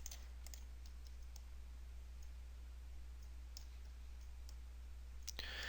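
Computer mouse clicks during CAD surfacing work: a few sharp, faint, isolated clicks scattered over a quiet room with a steady low electrical hum, and one slightly louder click near the end.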